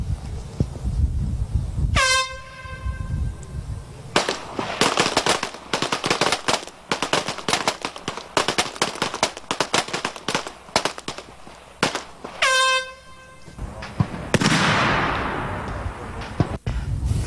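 Black powder firearms fire at a shooting competition, sharp blasts and rapid volleys of shots echoing across the range over several seconds, with occasional loud horn-like tones and some background voices.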